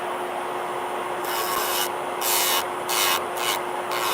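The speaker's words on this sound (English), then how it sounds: "So if I already have the e-file in my hand" An electric nail file shapes acrylic nails with a steady high motor whine, broken by several short, harsh grinding bursts up close.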